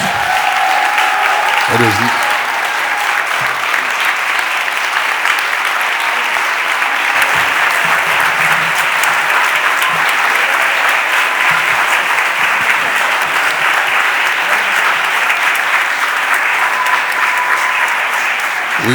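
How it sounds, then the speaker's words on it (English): Sustained applause from an audience at a Philadelphia City Council stated meeting, steady dense clapping filling the room for the whole stretch, with faint voices underneath. "Can we give our youth another round of applause first?"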